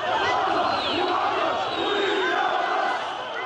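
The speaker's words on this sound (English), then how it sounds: "State TV shows Muammar Gaddafi with cheering crowds in Tripoli" Crowds rallying for Muammar Gaddafi in Tripoli, Libya, cheering and chanting in a loud, continuous, dense roar of many voices throughout.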